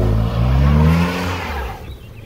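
A Mitsubishi Pajero iO 4x4 drifting in tall grass: the engine revs hard and loud up close, its pitch rising and then falling away as the throttle eases off near the end.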